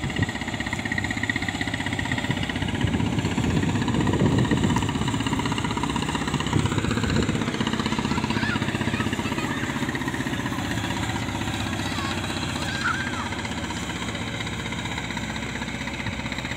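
A loaded bulkhead cargo vessel passes along a river, its engine a steady, throbbing mid-pitched drone that stays loud and constant throughout with a faint knocking texture.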